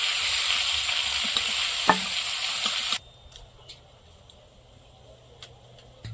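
Silver carp sizzles in hot oil in a village kitchen, a loud steady frying hiss for the first three seconds, then quieter background with faint ticks and light clinks.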